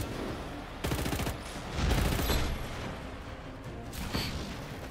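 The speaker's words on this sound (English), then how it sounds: "these Uzi stuff, Prizark, are really weak, bro" Uzi fire in the video game Just Cause 3, heard as several rapid bursts of close, rattling shots with short gaps between them, set against a dense background of game noise.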